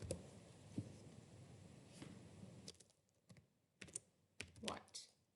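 Typing on a computer keyboard, a quiet run of uneven key clicks that starts soft and continuous, then breaks into sharper separate bursts near the end, no voices.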